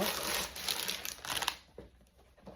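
Loud, close crinkling and rustling of a plastic clothing package being opened, dense for about a second and a half before thinning to a few scattered crackles.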